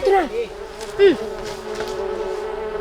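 Honeybees buzz continuously close by, a steady drone with a couple of louder swells as individual bees pass near.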